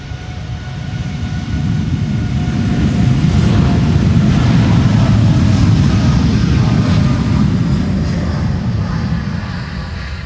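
Ten-year-old jet airliner taking off on derated thrust from Amsterdam Schiphol's Polderbaan runway 36L, a loud sustained engine roar that swells and fades slowly, heard from nearby outdoors.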